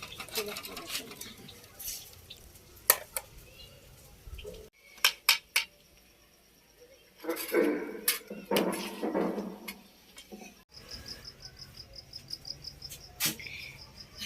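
Water vessels and dishes are handled in a village home at Ramadan iftar, giving scattered clinks, taps and rattles of pots and utensils in bursts, near and fairly quiet, with faint insect chirping in the background.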